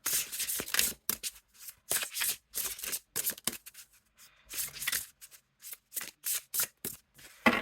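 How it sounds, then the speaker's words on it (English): Oracle cards being shuffled by hand, a series of quick crisp riffling and sliding bursts separated by short pauses, close and fairly quiet with no talking. "So they shuffle well, both ways that I shuffle."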